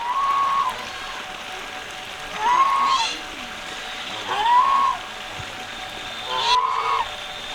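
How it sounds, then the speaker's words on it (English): A Chinese goose gives four loud, nasal honks close by, spaced about two seconds apart, over a low outdoor background. "I have to show you this Chinese goose. He's quite intimidating."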